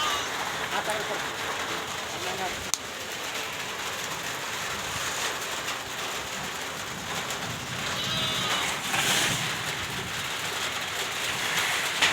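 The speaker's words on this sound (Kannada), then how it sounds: "ಮತ್ತೆ ಮಳೆ ಸ್ಟಾರ್ಟ್ ಆಯಿತು." Steady rain pours down, a continuous broadband patter and hiss on surfaces that holds evenly throughout, swelling slightly near the end.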